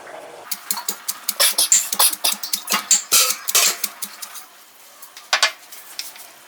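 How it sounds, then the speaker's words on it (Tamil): Small onions (shallots) are pounded coarsely in a kitchen, giving a run of sharp, evenly spaced thuds and knocks, close and fairly loud, that pause near the end before a few last strikes; no one speaks. "சின்ன வெங்காயத்தை தட்டி எடுத்துக்கலாம்"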